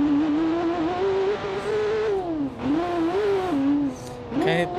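A car in the BeamNG driving game runs through suspension tests, its engine droning steadily and rising and falling in pitch as it revs, with a few brief knocks near the end.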